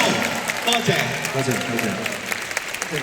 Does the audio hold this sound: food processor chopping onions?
no